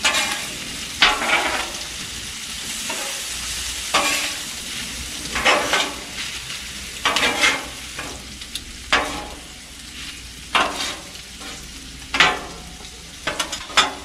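Meat and small potatoes sizzling in a pan while being stirred, a steady frying hiss broken by repeated scraping stirs at an irregular pace, close and alone.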